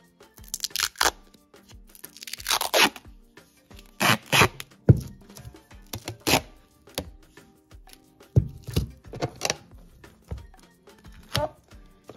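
Duct tape pulled off a roll in repeated sharp ripping strips and pressed around a plastic container, close and clear, with short pauses between the tears.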